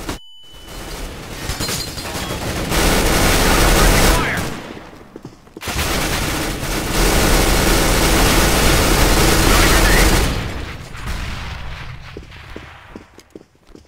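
Counter-Strike: Global Offensive combat: a flashbang blast and bursts of rapid gunfire in loud sustained stretches, with a short quiet gap between them and softer footsteps and clatter as it tails off.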